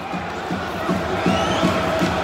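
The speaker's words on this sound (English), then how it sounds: "You can hear the crowd." A home football crowd at West Brom against Reading roars and chants in a steady, distant wash of voices, filling the whole stretch with occasional louder swells and no clear talk above it.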